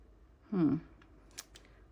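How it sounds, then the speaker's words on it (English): Paper trimmed with scissors during planner decorating, a single short snip-and-slide cut up close, followed by a faint small click. "I may have to trim some of it off because it's not going to fit in there that well"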